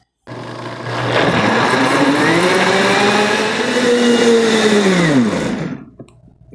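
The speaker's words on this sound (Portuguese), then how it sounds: "agora que a gente já bateu esses ingredientes no liquidificador" An electric blender whirs loudly and steadily close by as it mixes banana cake batter ingredients, its motor pitch dipping and shifting slightly before it winds down and stops.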